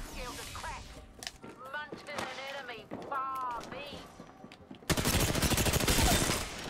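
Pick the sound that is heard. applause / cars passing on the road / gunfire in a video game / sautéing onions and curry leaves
gunfire in a video game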